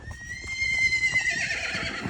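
A pony whinnies loudly and close, a long rising-and-falling neigh over the crunch of hooves and stable noise at dusk.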